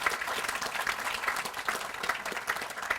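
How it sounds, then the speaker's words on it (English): Audience applause at a groundbreaking ceremony with the governor of Virginia, a steady, dense spread of clapping that holds at an even level for three seconds with no talk over it. "give them a great round of applause"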